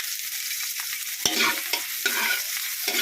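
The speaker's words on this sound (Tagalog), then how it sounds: "So, start na po tayo magisa." Chopped onions sauté in oil in a large wok for chopsuey, giving a bright continuous sizzle broken by sharp scrapes and knocks of a stirring utensil, close and with no talking.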